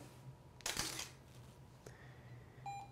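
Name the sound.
camera shutter clicking with studio strobe flash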